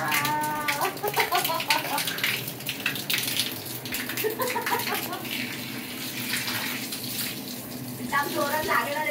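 Water streams steadily from an open-air shower at Fort Jadhavgad, a 300-year-old heritage hotel near Pune, a continuous splashing rush with voices talking over it.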